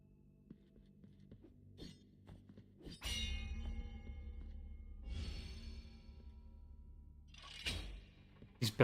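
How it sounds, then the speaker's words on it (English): Bells ring in the video game Blasphemous as bright metallic clangs with long ringing tails, several strikes spaced a few seconds apart over quiet game ambience, with no talk. "These bells are gonna drive me nuts."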